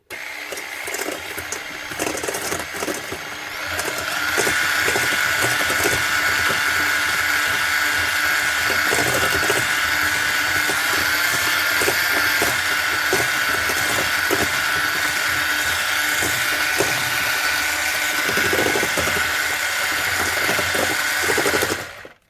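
A kitchen mixer beats a lactose-free tiramisu mixture until it whitens, a steady close whirring drone that starts softly, rises after a few seconds and runs on evenly, with no talk.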